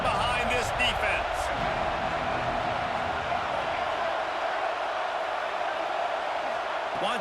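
A college football stadium crowd during Tennessee versus Texas, roaring steadily behind the defense on third down, a broad, sustained wall of noise with occasional thumps and a brief voice early on.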